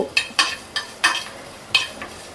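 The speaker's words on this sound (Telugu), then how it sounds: "ఇలాగా ధనియాలను వేయించుకోవాలి" A handful of coriander seeds being roasted in a pan, with a spatula stirring them in about half a dozen sharp, rhythmic scraping bursts, close and fairly loud, with no voices.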